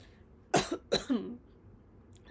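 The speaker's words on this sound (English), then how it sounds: "As I literally cough while I say that." Two short, dry coughs close to the microphone, one right after the other, followed by quiet.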